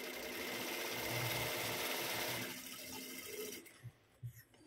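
A sewing machine stitches a blouse, running in a continuous close whir for a few seconds before stopping, followed by a few soft knocks and handling sounds.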